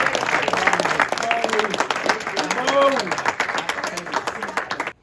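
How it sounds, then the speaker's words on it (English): Warm applause at a memorial tribute gathering, a crowd clapping steadily for several seconds with voices calling out over it, then the clapping breaks off abruptly. "Let's give Bo a round of applause."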